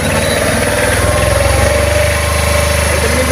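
A Tata pickup's diesel engine idles steadily nearby, a loud even rumble with a rhythmic low throb and faint mechanical chatter, no voices over it.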